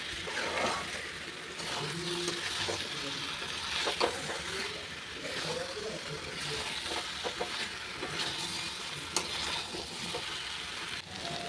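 Whole spices and garam masala sautéing in a pan, a continuous sizzle broken by repeated stirring scrapes and occasional clinks of a spoon, with faint background noise and no talk.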